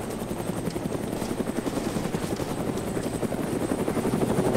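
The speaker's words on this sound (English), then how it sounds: "shoot up at that heli, guys" A helicopter in the video game DayZ makes a loud, continuous rotor chop with a fast pulsing beat. It swells slightly as it passes overhead, and no voices cover it.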